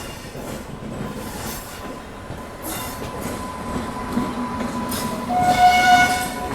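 The 17645 Secunderabad Repalle Express rolls along with steady rumbling of railcars and wheels, squeals and brief horn-like tones rising toward the end, loud and close.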